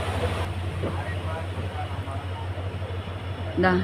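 A train travels through Thenmala on the route via Chenkottai to Madurai, heard as a steady low mechanical hum and rumble from on board, with a brief voice near the end.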